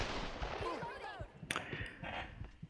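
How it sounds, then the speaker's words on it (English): Gunfire in the Tomb Raider video game, a series of sharp shots scattered irregularly across the clip at low level, mixed with other game sounds and some voice. "after I died, there's just a ton of gunshots"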